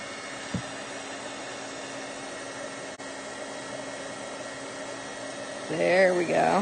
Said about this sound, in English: You just hold your heat tool pointing right at the puff paint, the liquid, and it'll start to puff in a minute.